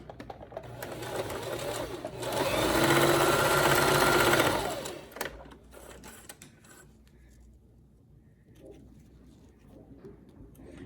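A sewing machine runs a straight stitch, its steady mechanical hum rising for about two seconds before tapering off into quieter handling noises.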